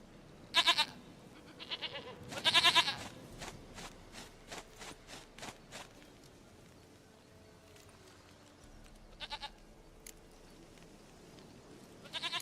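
A goat bleats in The Witcher 3 game: a few short, moderately loud bleats spread across the clip, with quieter rhythmic movement sounds in between.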